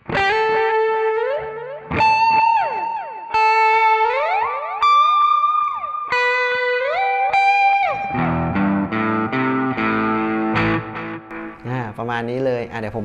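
Electric guitar through a NUX Mighty Lite BT MKII mini amp with delay and overdrive, bending sustained lead notes echoing, then dense distorted chords and a wavering bent phrase, loud and close throughout.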